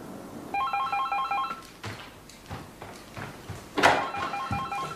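A telephone rings in a law office with bright electronic trilling in repeated bursts, loud and close, broken up by footsteps and other movement sounds in the room.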